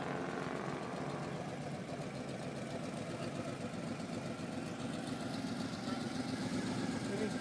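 A Mustang engine runs at a late-night street car meet, a steady low rumbling drone that holds without clear revs, heard from nearby amid outdoor crowd noise.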